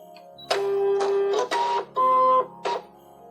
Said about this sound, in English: I'm going to load the mat into my ScanNCut.